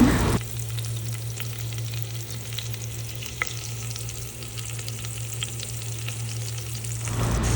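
Ginger garlic paste, curry leaves and green chillies fry in sunflower oil in a pan on a gas stove, giving a steady, close sizzle with a low hum beneath and a few faint pops and crackles throughout.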